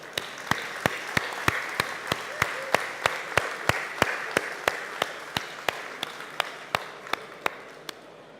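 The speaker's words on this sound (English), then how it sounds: "give them a big hand of applause." Sharp, evenly spaced handclaps ring out around twenty times in a steady rhythm over a soft bed of applause from an audience at a shipping industry stage event, with a little talk underneath.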